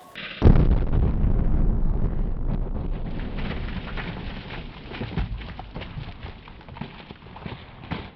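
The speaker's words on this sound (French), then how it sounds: "Une explosion contrôlée de balles et c'est vraiment génial." A controlled explosion of balls erupts into a geyser outdoors, a sudden loud burst followed by a sustained roaring, rushing blast with crackling and wind buffeting that continues for several seconds.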